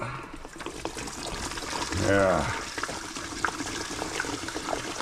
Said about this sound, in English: I just got the cap off here, and then hopefully I can just nicely pour this out.